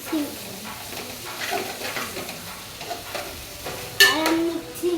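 Garlic paste stirred in a pan, a soft scraping and sizzle running steadily, with a louder clatter of the utensil near the end; faint voices murmur in the background.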